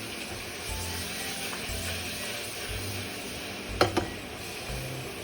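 Vegetables stir-fried in a pan give off a steady low sizzle throughout, with a couple of quick clinks of a utensil near the end, heard close with no talk over it.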